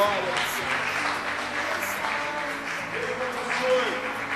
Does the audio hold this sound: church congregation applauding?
yes